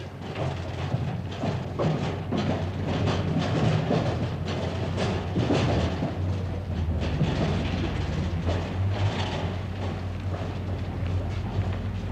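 A train rumbles steadily at a railway station with rhythmic clattering of wheels on track, a loud continuous mechanical drone and occasional thumps, no voices.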